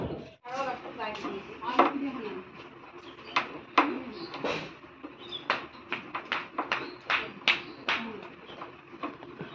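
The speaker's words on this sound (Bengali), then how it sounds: "তো চলো মাছটা কেটে নিই" Knife chopping through a fish on a board, a run of sharp, evenly spaced cuts growing steadier toward the end, close and fairly loud, with brief talk near the start.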